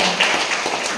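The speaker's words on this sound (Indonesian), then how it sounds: "Tepuk tangan dong." Students clapping during a school scholarship outreach session, a steady wash of many hands sustained for about a second without pause.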